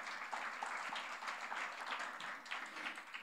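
Congregation applauding during a church service sermon, a brief burst of dense, even clapping from many hands that holds steady and slightly fades toward the end.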